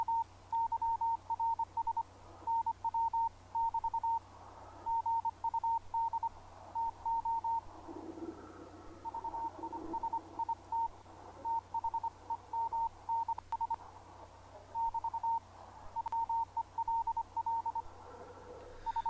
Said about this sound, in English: I actually found some better CW here